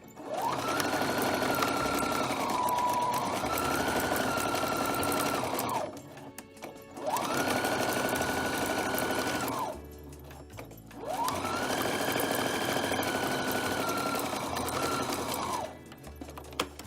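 A sewing machine stitching trim onto a floral print garment, three sustained loud whirring runs of stitching separated by brief pauses, close and alone.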